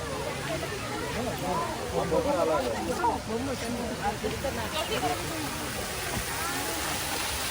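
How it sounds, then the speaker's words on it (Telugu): Water pours steadily down an artificial waterfall at Shilparamam in Hitech City, a close, continuous splashing rush with faint murmuring voices underneath. "ఇది వచ్చి వాటర్ ఫాల్."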